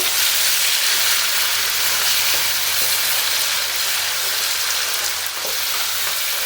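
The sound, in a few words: garlic onion paste frying in oil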